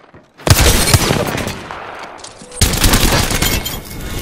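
Loud, dense gunfire in a video game bursts in abruptly as a rapid volley, briefly thins, then surges again in a second heavy stretch of shots.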